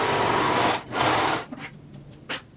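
A serger stitches around a fabric corner in two steady, loud whirring runs with a short pause between, then stops, leaving a few faint clicks and knocks close by.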